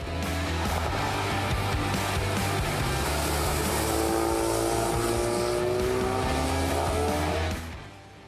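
Car engine revving hard in sport mode with aggressive throttle response, a loud, close, sustained roar with rising pitch sweeps that cuts off near the end, with no talking.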